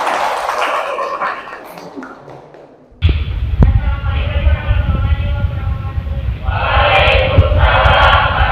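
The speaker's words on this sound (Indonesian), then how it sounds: "Beri tepuk tangan dulu biar semangat ya." A classroom bursts into applause for the first student group about to present, dense clapping starting suddenly and continuing steadily with a mix of voices and cheering over it.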